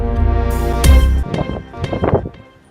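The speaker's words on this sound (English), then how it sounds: "it's quite windy" Strong wind buffets the microphone in a loud, low roaring gust that drops away after about a second, leaving quieter rustling sounds.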